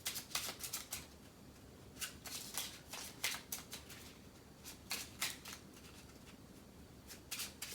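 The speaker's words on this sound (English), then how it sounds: "These cards are so hard to shuffle." Tarot cards are shuffled by hand in quick, crisp riffling bursts, faint and close, with short pauses between runs and no talk over them.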